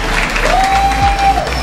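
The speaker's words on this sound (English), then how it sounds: "We get a round of applause for each one of these guys." Audience applause at a motocross dealer awards banquet in Tampa, a steady spread of clapping from a seated crowd over a low room hum, with a faint whistle-like tone running through the middle.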